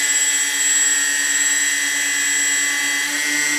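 Engines of a Dash 8 aircraft, likely a model with nacelles, hum steadily at about half throttle, giving a continuous high whine with tonal overtones and no pauses.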